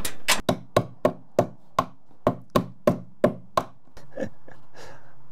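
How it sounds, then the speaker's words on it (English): Linesman's pliers pound a stubborn fastener during a home repair with a stripped screw, a dozen or so sharp metallic-wooden knocks in an uneven, close rhythm, then a low hum in the final seconds. "using linesman's as a hammer"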